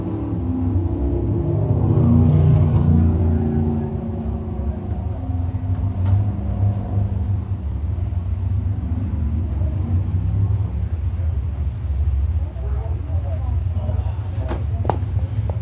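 602 crate sprint cars race at Can Am Speedway, a steady engine rumble with a swell of revving as the pack passes, under a track announcer's voice.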